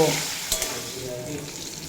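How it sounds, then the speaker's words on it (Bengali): Bitter gourd fries with turmeric and salt, a brief close sizzle and hiss with one small scrape of stirring partway through. "সাথেই দিয়ে দেব পরিমাণ মতো হলুদের গুঁড়ো আর স্বাদ মতো লবণ দিয়ে খুব ভালোভাবে ভেজে নেব"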